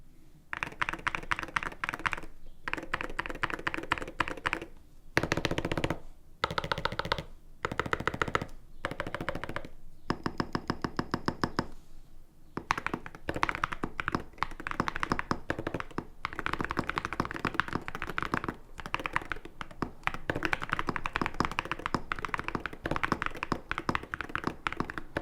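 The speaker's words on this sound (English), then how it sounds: "the ceramic keycaps actually significantly changed the sound profile of the board" Typing on a keyboard fitted with Cerakeys V2 ceramic keycaps, giving a deep, thocky sound: steady bursts of close keystrokes with short pauses, running alone without talk.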